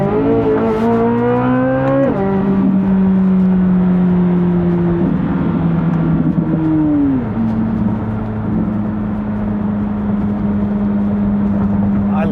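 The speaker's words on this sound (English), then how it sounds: "The Z06 motor." A Chevrolet Corvette Z06 engine drones steadily from inside the cabin while driving, its pitch stepping down and levelling off twice as gears change, under a constant road roar.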